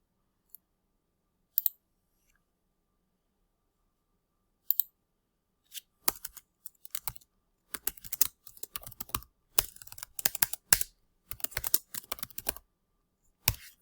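Keys clack on a computer keyboard as a name is typed, a few isolated clicks at first, then a quick irregular burst of keystrokes, close and clear in a quiet room.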